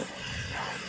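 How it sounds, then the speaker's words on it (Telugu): An air cooler's electric motor runs with a steady broadband whir, loud and unbroken across the short moment, with no talking over it. "ఇది కూలర్లో మోటరు"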